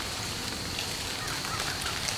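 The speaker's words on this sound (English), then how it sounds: "you can probably hear it's still raining" Steady rain falling outdoors around a hunting tree stand in the afternoon, a soft continuous hiss of drops with no break, nobody talking.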